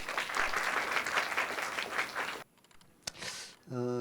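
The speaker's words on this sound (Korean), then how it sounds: "두 번째 강연을 큰 박수로 청해 듣겠습니다" Audience at a history lecture event in Gwangju applauds to welcome a lecturer, with steady clapping that stops abruptly midway, followed by a short quiet gap, a few stray sounds and a speaking voice.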